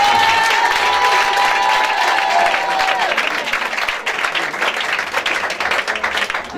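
A church congregation at a testimony service with Prophet Joel Krasso applauds and cheers for Jesus, dense loud clapping and shouting that runs continuously and stays strong to the end.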